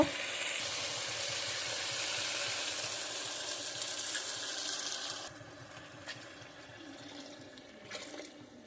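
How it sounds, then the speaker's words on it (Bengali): Water pours steadily into a pot while cooking biryani, a broad rushing splash for about five seconds that then stops, leaving faint clinks and kitchen sounds. "পরিমাণ মতো জল দিয়ে দেব"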